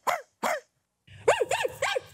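A person imitates a dog, giving two short barks, then after a pause a run of four quick yapping barks over a low rumbling background, loud and close.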